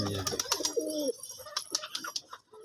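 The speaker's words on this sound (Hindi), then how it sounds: "ये देखो ये कबूतर बेहतरीन कबूतर है।" Pigeons cooing close by in a loft, several soft throaty coos and warbles in short bursts with small chirps between, no talking.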